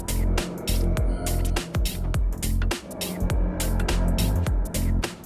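Psytrance synth sound design passed through reverb at a fully wet mix, with none of the dry signal: a dense, washy, sustained synth texture with pulsing bursts and low-end rumble, fairly loud and continuous.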